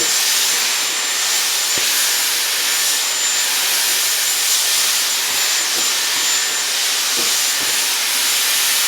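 A Dyson Airwrap blows a steady, loud rush of air while drying and round-brushing hair, a constant breathy hiss throughout with a few faint soft bumps from handling and no talking.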